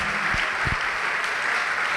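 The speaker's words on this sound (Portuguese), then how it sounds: "Vamos aplaudir a Jesus e se coloque de pé no seu lugar." An audience in a church applauding for Jesus, standing in their places, heard as steady dense clapping that fills the whole moment at close range, with no voices over it.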